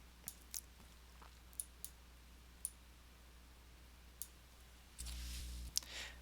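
Sharp, dry mouse clicks from a computer desk while working in Inkscape, six or seven quick isolated taps spread irregularly over a quiet background, followed by a brief low hum and a final click.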